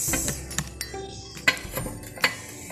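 Four glass containers clink against one another on a table in a few sharp, separate knocks, close and moderately loud, with no talking.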